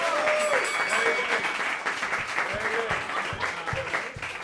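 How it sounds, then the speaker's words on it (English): Comedy club audience at a roast battle applauds steadily, with cheers and a voice speaking over the clapping. "Give a round of applause"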